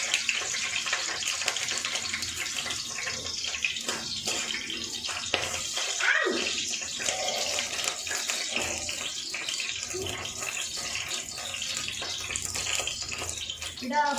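Two green chillies spluttering in hot oil in a home kitchen, a continuous loud sizzling hiss with crackling pops and a brief sharper burst partway through.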